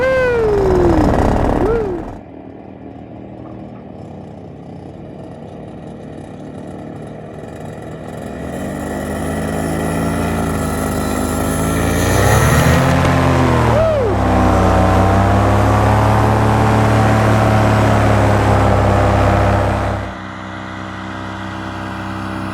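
BlackHawk Titan 210 paramotor engine in flight: a steady mechanical drone builds and swells in pitch as throttle is added midway, then holds a loud, sustained buzzing hum with wind rush, ending with a drop in level near the end.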